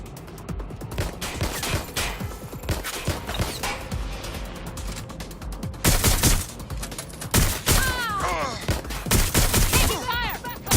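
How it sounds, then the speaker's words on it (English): Rapid bursts of gunfire in the video game Watch Dogs: Legion, loud and close, with repeated volleys and sharp cracks over a busy combat soundscape, with no talking. "Getting shot at here."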